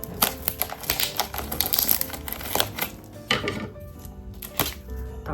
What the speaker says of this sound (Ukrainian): Ножиці